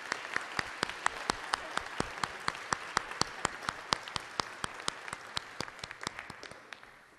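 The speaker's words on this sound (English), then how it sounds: "And yes, let's give them a round of applause." A small audience gives volunteer sustainability ambassadors a steady round of applause at a city community update, the claps distinct and evenly spaced, then slowly thinning out.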